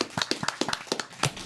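Applause for guests at the close of a Brazilian podcast, a short burst of clapping from a small group with sharp overlapping hand claps, fairly close and without talk.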